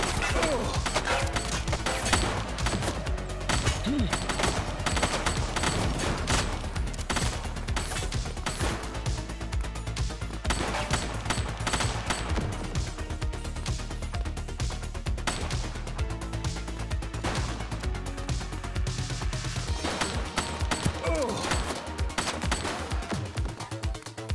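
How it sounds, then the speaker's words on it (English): Dense gunfire from the video game The Precinct, with a loud continuous stream of rapid shots and mechanical clatter in a busy mix that keeps going without a break. "Shots fired!"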